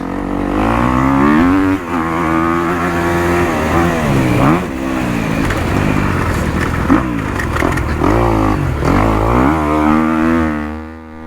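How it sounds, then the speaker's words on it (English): A 2023 Kawasaki KX250 dirt bike engine revs loudly and continuously on a motocross track, rising and falling through gears with a sharp buzzing tone, close and alone with no talking. "It sure feels good to be back on a green bike. Kawasaki KX250."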